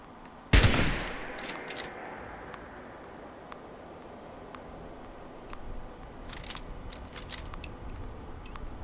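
A single loud gunshot in the video game Fallout 76 rings out with a quick decaying echo, followed by faint mechanical clicks and metallic ticks, no speech.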